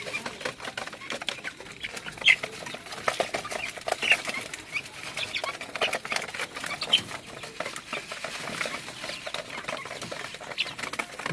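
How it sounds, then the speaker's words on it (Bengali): Six 34-day-old farm broiler chicks shuffle and peck, with wings fluttering and feet pattering in a steady rustle. Occasional faint cheeps come through close by. "এই যে ফার্মি মুরগির বাচ্চাগুলো বেশ বড় সড়ো"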